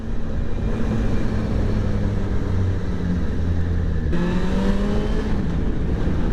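A Yamaha FZ6 motorcycle engine drones loud and steady while riding through a village, a constant close roar with a shift in pitch partway through as the revs change.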